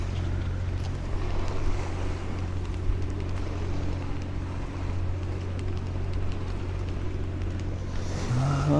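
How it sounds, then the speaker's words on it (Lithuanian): Strong wind howling around a small boat heading home from Svalbard in Arctic seas, a constant loud roar of wind buffeting the microphone with engine drone and water wash beneath, no talking. "čia kaukia vėjai"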